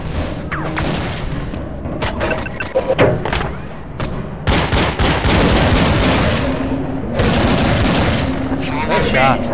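Gunshots in Counter-Strike on the Oilrig map: dense bursts of rapid fire and sharp single shots in close succession, loud and nearly continuous across the stretch, with brief lulls between volleys.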